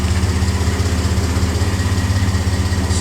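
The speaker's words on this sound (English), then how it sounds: "That's the muffler." An idling engine rumbles through a FloPro exhaust muffler, a loud, steady low-pitched burble with an even pulsing throb, heard up close without any talking.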